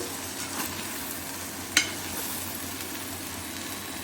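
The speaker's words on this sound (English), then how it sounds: "Just I am going to mix the vegetables." Vegetables for avial are stirred in a pan, a soft constant sizzle and shuffle with one sharp metallic scrape of the spoon near the middle, close and fairly quiet, no talking.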